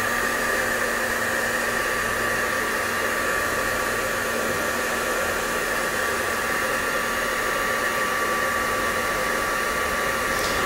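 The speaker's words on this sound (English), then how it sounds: "So we just heat these now for around about 2 minutes." A heat tool blasts a steady, loud airy roar while drying and setting Cosmic Shimmer Lava Paste for a mixed media rust background, holding continuous without pause and with no voices.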